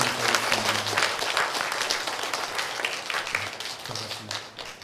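A church congregation at a Korean worship service in Cheorwon applauds together, a dense, steady wash of many hands clapping that fades slightly toward the end.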